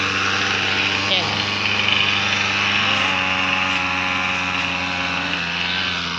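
Grass cutter engine running steadily in a calamansi orchard, a continuous broadband drone with a constant hum and no breaks. It is loud and close throughout.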